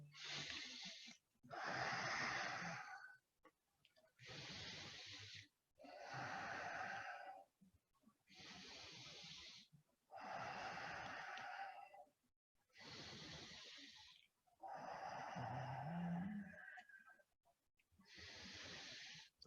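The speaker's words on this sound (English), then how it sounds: "Focusing on your Ujjayi breathing." Ujjayi breathing during an Ashtanga yoga flow, slow rhythmic breaths with a soft ocean-like hiss, about eight long inhales and exhales separated by short quiet gaps.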